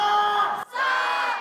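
A stadium crowd at Taiwan's National High School Games in Taipei roars a loud, sustained "sha" battle cry, breaks off for a moment, then shouts again together.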